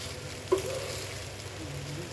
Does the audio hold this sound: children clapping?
no